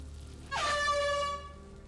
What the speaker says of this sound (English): Trizzy almost got me with the air horn.